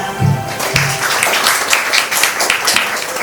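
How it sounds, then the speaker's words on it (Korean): Audience applause at a business award ceremony for a restaurant franchise owner stepping onto the stage, a steady wash of clapping at close range with no talk. "큰 박수 부탁드리겠습니다."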